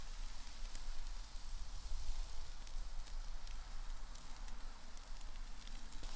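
Meat sears on a grill with a steady, moderately faint hiss scattered with small crackles and pops, and no talking.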